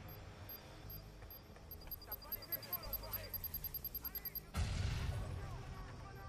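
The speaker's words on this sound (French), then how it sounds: "Ah, grenade!" A grenade goes off in the Watch Dogs video game: one sudden loud blast that breaks into rumbling noise after a run of sharp rhythmic gunfire-like pops, with someone talking over the game.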